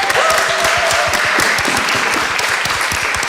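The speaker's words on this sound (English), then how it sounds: "So I want to clap you all." A conference audience claps together, many close individual hand claps forming a steady, lively patter that holds at an even level for a few seconds.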